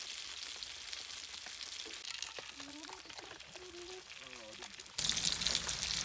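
An egg frying in a pan at a woodland camp beside a roof tent, a steady sizzle running throughout and growing louder and brighter near the end, with people talking over it.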